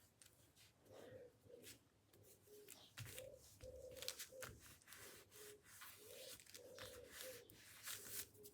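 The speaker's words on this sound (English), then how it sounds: "You have birds noises" Pigeons or doves coo in soft, repeated phrases in the background, faint and rhythmic, mixed with light tapping and handling noises nearby.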